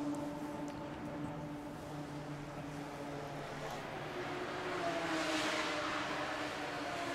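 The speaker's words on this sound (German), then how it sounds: "Wir sehen, der Porsche fährt raus" A Porsche race car pulls out of the pit lane at the Nürburgring 24-hour race, its engine a steady distant drone that swells slightly as it moves away, with no voices over it.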